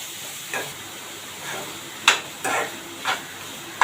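Kachori filling sautéing in a pan gives a soft steady hiss, broken by several short scraping stir strokes, close and fairly quiet with no talking.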